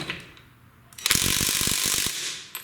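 A Ridgid X4 18V impact wrench tightens a fastener in one loud, rapid hammering burst of about a second, with faint clicks before it and a brief tap after.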